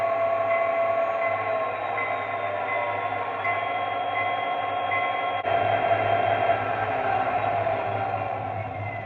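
Model train sound effects, a continuous mechanical hum and rumble from the onboard sound system, steady and close, with a brief dip partway through and no talking.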